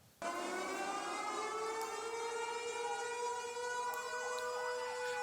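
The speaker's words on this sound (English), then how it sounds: "Sirens rang out in Indonesia's Aceh province to mark the moment the tsunami hit." A civil defense siren in Aceh province, Indonesia, marking a tsunami anniversary, wails steadily and loudly, its rising tone holding and slightly wavering as it carries across open air with no voices.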